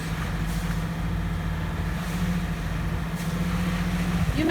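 A repaired sailboat engine with a newly fixed heat exchanger runs at a marina, a steady close diesel drone with a constant low hum and no change in pace.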